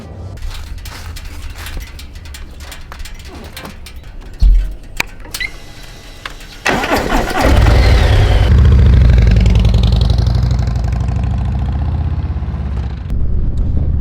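A motorcycle engine idles with clicks and knocks, then roars up loudly and keeps running with a deep, rumbling drone close by.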